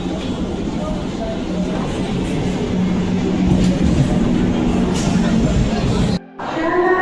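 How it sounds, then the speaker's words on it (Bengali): A Sealdah-bound local train rumbles at a suburban Bengal railway station, a steady low roar of rolling carriages with a brief cut near the end, close by and loud, with crowd noise in the background. "বেরিয়ে গেছে ট্রেনটা শিয়ালদার ট্রেন"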